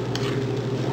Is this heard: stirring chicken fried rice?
yes